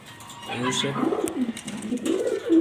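Soft throaty cooing from grizzle pigeons in a loft, a few rolling low coos close by with faint chirps and a little background talk.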